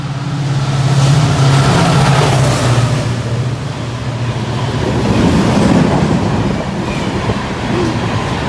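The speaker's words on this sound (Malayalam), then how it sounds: "ട്രെയിൻ വരുന്നുണ്ട്." A loud train rumbles past close by in Bangalore, a continuous heavy roar with rattling wheels that swells and stays strong throughout.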